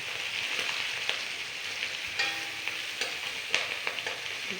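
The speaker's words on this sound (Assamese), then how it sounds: "মই এতিয়া পিঁয়াজখিনি ভালদৰে ভাজি ল'ম।" Onions fry in a pan over lowered heat, with pieces of fish pushed to one side for a fish curry. The close, steady sizzle is broken by light stirring scrapes and taps, with no voices.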